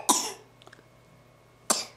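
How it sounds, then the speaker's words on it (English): A child coughs sharply twice, close by, the two coughs separated by a quiet pause of over a second. "you're still coughing"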